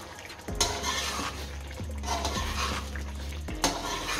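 Chicken karahi ingredients being stirred in a metal pot with a spoon, giving a steady scraping and clinking with sharp knocks against the pot rim, under a soft sizzle, no talking.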